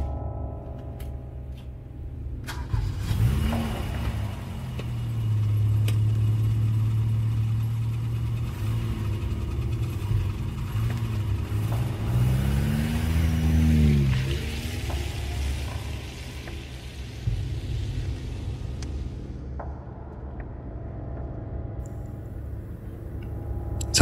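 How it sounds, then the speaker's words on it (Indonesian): An engine hums steadily while driving and rises in pitch a couple of times as it is revved. The sound is moderately loud, with road noise underneath. "Sambil ngetes mobil, beberapa kali ku gas kencang, melewati jalan-jalan yang berbelok."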